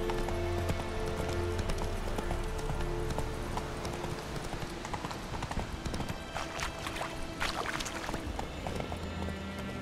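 Horse galloping in The Witcher 3, a steady clip-clop of hooves running continuously over a game soundscape with ambient tones, loud and close throughout.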